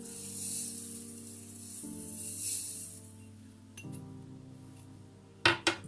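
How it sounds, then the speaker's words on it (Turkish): Granulated sugar is poured from a water glass onto plums for plum marmalade, a soft granular hiss followed by a few bright glassy clinks near the end, over a faint hum. "Şimdi bunun üzerine klasik su bardağımızla 3 su bardağı toz şeker ekliyorum"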